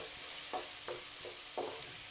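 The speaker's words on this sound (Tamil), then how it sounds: "இப்போ அதை ஊற்றி மிக்ஸ் பண்ண போகிறேன்." Ground tomato, about three tomatoes blended, goes into a pan of sautéed onions for masala pasta and is stirred, giving a few scraping spoon strokes over a soft steady sizzle with no talking.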